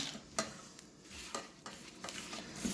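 A spoon mixes blueberries and sugar in a bowl for a blueberry pie, making close, irregular scraping taps and soft wet shuffling with no voices.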